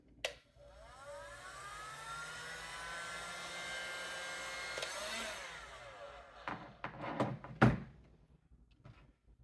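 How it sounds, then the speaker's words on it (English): A heat gun blows steadily on mixed epoxy for fishing rod guides, a continuous whirring hiss with whining tones that cuts off partway, followed by a few knocks and clunks. "Hit it with the heat gun again."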